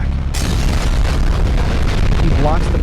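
A cannon blast in an animated Skibidi Toilet battle, fired by a Titan. The roar is loud and sustained, bursting in after a brief quieter moment and rumbling on steadily to the end.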